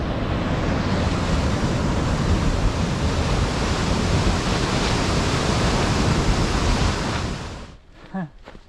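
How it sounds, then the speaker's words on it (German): A large waterfall on a pine-forested hiking trail gives a loud, steady broadband roar that holds for about seven seconds, then drops away abruptly as a brief rustle sounds near the end. "Ganz schön großer Wasserfall hier."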